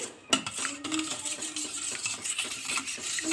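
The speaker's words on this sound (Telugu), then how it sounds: "ఇలా బీట్ చేసుకోవాలండి బాగా" Whole eggs being beaten in a bowl until yolk and white fully combine: quick, steady clinking and scraping of a utensil against the bowl, close up, with no talking.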